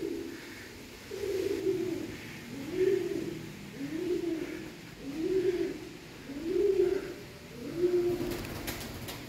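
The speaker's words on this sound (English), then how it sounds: "See, even pigeons live in here." Pigeons coo inside a cave at the Marble Mountains in Da Nang, Vietnam, a close, regular series of about six soft, throaty coos that echo in the rock space.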